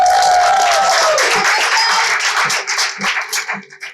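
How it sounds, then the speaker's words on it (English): Audience applause at a youth poetry slam, a dense wash of clapping with some cheering that holds steady, then thins and tapers into scattered claps near the end. "Keep clapping just to get on the mic."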